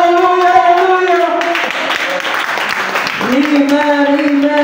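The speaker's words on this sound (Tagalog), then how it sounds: "Come on, palakpak ka lang sa tumuhin na Diyos." A church congregation claps in the middle of a worship service, with a burst of dense applause between stretches of sung or chanted voices.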